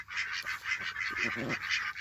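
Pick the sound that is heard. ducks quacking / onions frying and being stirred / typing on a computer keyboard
ducks quacking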